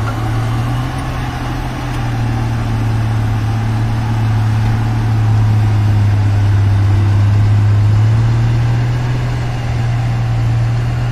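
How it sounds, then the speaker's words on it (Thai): Several cars of 200+ horsepower without turbos idle together, a steady deep engine rumble with a constant low hum running throughout, loud and close, with no talking. "แต่ละคันนี่เสียงเหมือนไม่มีเทอร์โบเลยนะ"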